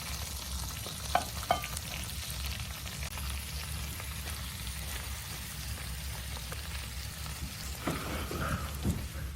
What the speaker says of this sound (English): He turns and presses the meat as it sears, letting the stove do the hard part.